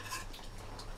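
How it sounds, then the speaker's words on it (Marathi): Diwali faral snacks frying in a pan are gently pushed back and forth with a utensil, giving soft scraping and clinking strokes over a faint sizzle in a brief, quiet moment. "आता फक्त ढवळायचं आहे. ढवळायचं म्हणजे ढवळायचं नाही, ते थोडंसं मागे पुढे करायचं."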